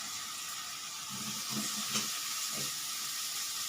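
Papaya pieces tipped into a pan of frying tomato seasoned with salt and turmeric, giving a steady close sizzle with a few soft stirring scrapes, no voices.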